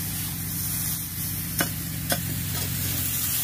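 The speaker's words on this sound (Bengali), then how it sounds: "লবণ হলুদ ফুলকপি আলু মিশুরি একসঙ্গে ভালোভাবে ভাজি করে নেব।" Cauliflower and potato with salt and turmeric frying in a pan, a steady close sizzle running throughout with two brief scrape knocks of stirring near the middle.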